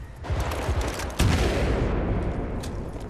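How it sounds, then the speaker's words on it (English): Rapid, overlapping gunfire from squadmates in Battlefield Bad Company 2 on PS3, a dense fusillade of shots and booms that continues without a break through the whole moment. "Some good cover fire."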